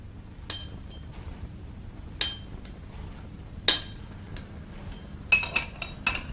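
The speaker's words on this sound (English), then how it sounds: "I laid my mallet and chisel on the bench" A mallet and chisel are set down on a workbench, giving a few sharp, isolated metallic clinks and knocks spaced across a quiet room, ending in a quick cluster of taps.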